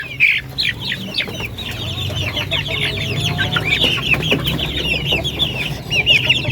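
A flock of hungry breeder chickens clucking steadily at close range, many overlapping calls in a continuous busy chorus with no talk.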